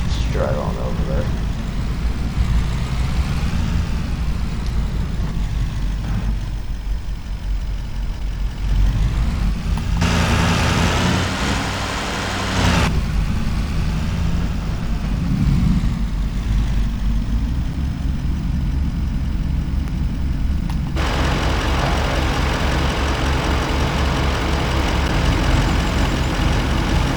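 Farming Simulator 25 truck driving on an Iowa farm map, a steady low engine drone running throughout beneath ongoing talk, with a brighter noisy stretch near the end.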